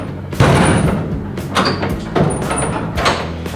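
The broken door of a classic Ford Mustang is forced open, with repeated heavy thumps, rattles and metallic clunks coming close together at near range over about three and a half seconds.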